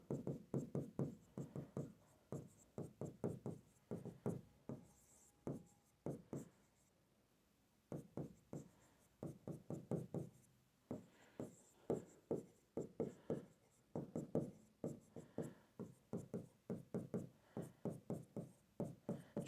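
Chalk or marker writing notes on a classroom board, a long run of quick rhythmic scratchy strokes with one short pause partway through, close and clear with no talking.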